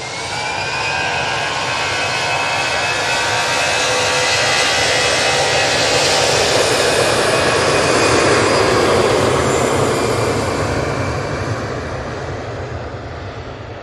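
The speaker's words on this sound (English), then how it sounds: "Right, we're going to get this EasyJet." An EasyJet jet airliner takes off at Manchester Airport, its engines a loud, sustained broadband roar that swells and sweeps past at close range, then eases slightly as it climbs away.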